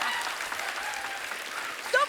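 A studio audience at a Kapil Sharma comedy show applauds steadily, a dense even patter of clapping hands that fills the whole stretch at moderate volume.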